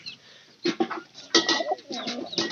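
Pigeons with young in the nest coo in soft, repeated throaty bursts, several short calls in close succession, near and fairly clear with no talking.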